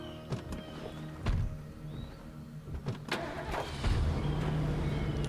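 Car engine starting up in the zombie survival game State of Decay, a mechanical crank and rising engine rumble with door and window clunks, settling into a steady idle hum, close and fairly loud with no talk.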